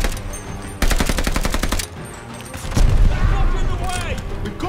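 Gunfire in the video game Call of Duty Vanguard: a rapid burst of automatic shots followed by more heavy firing and booms, loud and close, with a low rumble throughout.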